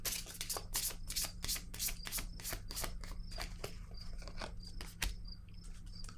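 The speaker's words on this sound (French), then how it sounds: "Je vais déposer une autre carte ici." Playing cards are handled and laid down on a table, making a quiet run of light, crisp snaps and papery flicks close by, with no voices.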